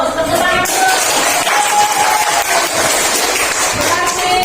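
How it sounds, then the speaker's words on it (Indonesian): A class of 21 fifth-grade pupils applauds in a classroom, dense close clapping and crowd noise filling the room without pause. "Tepuk tangan."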